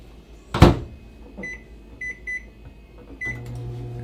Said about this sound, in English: we're gonna put this in the microwave for about